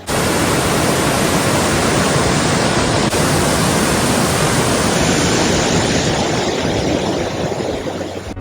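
A waterfall on a North Wales road trip roars in a loud, steady, broadband rush that fills the whole stretch without a break.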